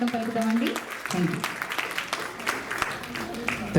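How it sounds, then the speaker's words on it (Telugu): An audience at a NATS North American Telugu Society Houston chapter inauguration claps to welcome a guest on stage, a steady wash of applause lasting throughout while a voice talks over it. "ఒకసారి మన అతిథులకి గట్టిగా చప్పట్లతో స్వాగతం పలుకుతామండి."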